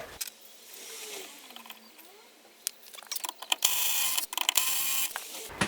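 Penetrating oil sprayed from an aerosol can onto a seized rear shock absorber bolt of a car, a faint scraping prelude followed by a close, loud continuous hiss of spray with brief interruptions.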